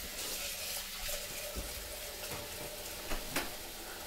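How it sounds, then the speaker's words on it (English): Running tap water splashes steadily into a pot as it is rinsed out, close and fairly quiet, with a few clinks of the pot near the end. "I'm going to clean out my pot here because I'm going to have a nice clean pot."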